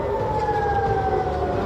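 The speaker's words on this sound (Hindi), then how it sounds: "राजधानी तेल अवीव में भी अलर्ट सायरन बज गए।" A steady, wailing air raid alert siren in Tel Aviv during wartime holds loud and continuous over a rumbling background, with no pauses or speech.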